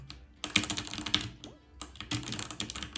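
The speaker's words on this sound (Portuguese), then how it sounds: "O barulho do teclado é satisfatório." Computer keyboard typing comes in close, crisp bursts of rapid clicking keystrokes, pausing briefly twice before resuming, with no talk over it.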